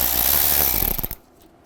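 A power driver spins out a T25 Torx screw from the radiator condenser area of a 2005–2010 Volkswagen Jetta, a loud close whir lasting about a second before it cuts off sharply.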